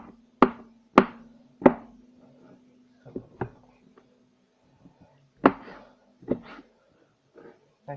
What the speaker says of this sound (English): I'm going to go ahead and chop up some of the shrimp